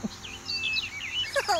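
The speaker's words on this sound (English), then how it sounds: "Just listen to all the pretty birds singing." Many small birds of various colors singing nearby, with overlapping high chirps and warbling trills throughout, some rising and falling calls, moderately loud, without talk.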